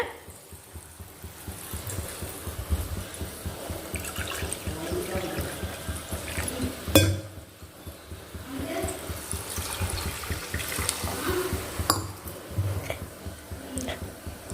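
Water poured into sugar in a pan while making bread halwa, a steady trickling and splashing stream running for several seconds, fairly close, with a brief clatter partway through.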